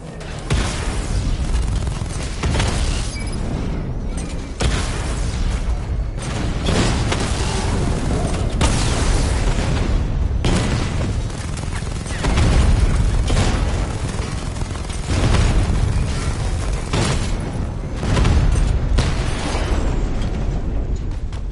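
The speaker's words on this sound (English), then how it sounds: "Your 60mm cannon will penetrate these heavily armored units, but it'll take a few direct hits to destroy them." A 60mm cannon in the Batman: Arkham Knight video game fires at heavily armored units, loud booming blasts and bursts repeating over a dense, rumbling battle din.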